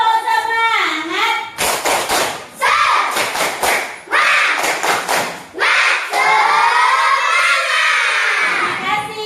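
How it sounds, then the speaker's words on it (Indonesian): Schoolchildren in a classroom clap and shout together in the tepuk semangat chant, loud rhythmic bursts of clapping and voices separated by short pauses, with a teacher's voice leading between rounds. "kita tepuk semangat dulu ya"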